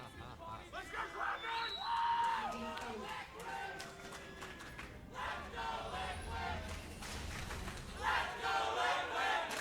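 An esports arena crowd at a League of Legends NA LCS match between Cloud9 and Team Liquid cheers and chants for Liquid, a rumbling hubbub with whoops rising and falling under a caster's talk.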